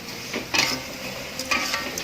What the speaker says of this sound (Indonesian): Dan ini kita aduk rata sampai bumbunya tercampur sama ikannya ya teman-teman